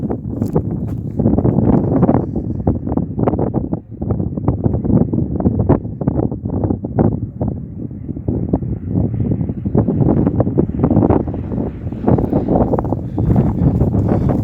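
Strong gusty wind buffets the microphone with a continuous low rumble and irregular bursts, with no voices present, outdoors on a wheat field.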